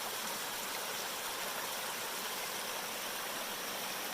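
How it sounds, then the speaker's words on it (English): A stream on the Appalachian Trail runs with a steady, even rush of flowing water, a constant broadband wash with no pauses and no voices, heard at moderate distance. "I get thirsty every time I walk by one of these streams and I hear the water."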